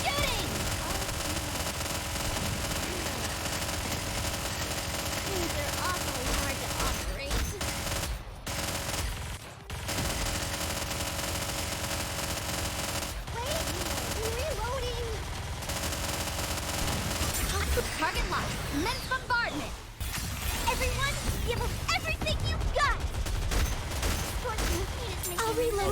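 Dense, continuous automatic gunfire from the Nikke: Goddess of Victory shooter game, loud and sustained with brief gaps, mixed with game effects and voices.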